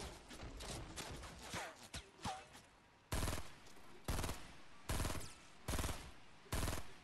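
Fortnite Battle Royale gunfire: lighter shots and in-game noise come first, then five loud, heavy shots ring out at even intervals, close and dominant.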